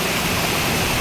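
Rushing water tumbling over big rocks in a mountain resort stream at Calawagan, Paluan, Occidental Mindoro, a steady, loud, broadband roar filling the scene without pause.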